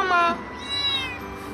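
A kitten's short, high meows sound close by in a drama scene, overlapping a voice that imitates a meow at the start.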